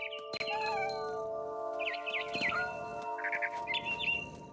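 A mother bird in What Remains of Edith Finch chirps in short bright trills and warbling phrases, repeating in bursts over a faint sustained musical tone with a few soft clinks.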